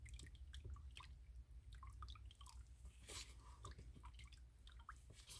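Thin Mix2Mold casting mixture, still runny like water, drips in faint, close, irregular patters and soft wet splats, with no voices.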